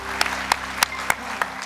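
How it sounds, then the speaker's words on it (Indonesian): At a talk show taping, a few audience members clap: a sparse run of distinct, evenly spaced claps about a third of a second apart, standing out over a low background hum. "tepuk tangan sekali lagi"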